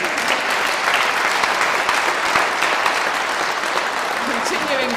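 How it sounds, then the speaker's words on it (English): An audience at a British Empire Medal investiture ceremony gives a big round of applause for a 77-year-old recipient, dense continuous clapping filling the whole stretch at a steady, loud level. "I think she deserves an extra big round of applause for her"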